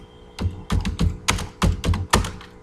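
Fingers type on a computer keyboard and press Enter, giving a quick run of close, crisp clacking keystrokes with uneven rhythm and a few heavier thunks, no talk.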